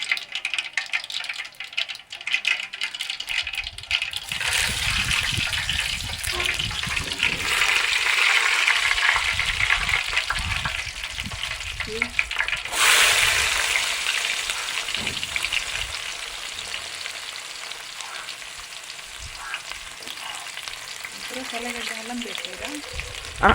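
Onions fry in a pan for a small-fish and bottle gourd curry, making a loud, continuous sizzle that flares up sharply when something is added, with occasional stirring clatter and a voice in the background.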